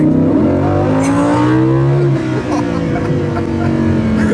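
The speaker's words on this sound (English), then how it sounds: "Yeah, you feel the 610 brake horsepower." A 2015 Lamborghini Huracan with a 610 brake horsepower engine accelerating hard, heard from inside as a loud, rising engine roar climbing through the gears with brief dips between shifts.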